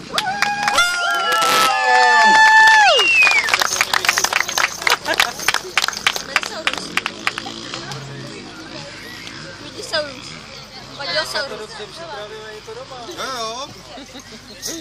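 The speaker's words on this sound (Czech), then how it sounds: "A ještě větší potlesk si to zaslouží" Crowd applause and cheering at a children's quad bike racing award ceremony in Milovice, rising loud at first with clapping and shouts, then thinning into scattered claps and babble under voices and a crackling loudspeaker.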